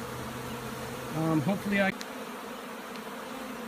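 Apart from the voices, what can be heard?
honey bees buzzing around a bucket of honeycomb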